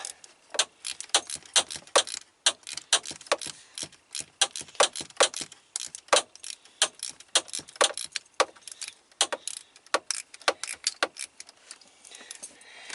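A 10 mm ratchet wrench working the shifter bushing bolts, a rapid, continuous run of sharp metallic clicks and ratcheting close up, steady over several seconds without any voices.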